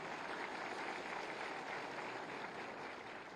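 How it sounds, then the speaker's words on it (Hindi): Faint, steady applause from a crowd at a ceremony handing out appointment letters to newly selected assistant boring technicians, continuous clapping sounding distant and low, with no speech over it. "तालियां जोर से होनी चाहिए।"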